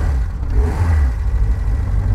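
A Bond Bug's small engine drones and revs steadily as the car climbs a hill, a loud, continuous mid-pitched hum with slight rises and dips and no talking.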